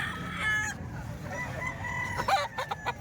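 A young rooster, a Talisayin stag, gives short clucks and a rough crow at moderate distance, set against a low background rumble and other faint fowl calls.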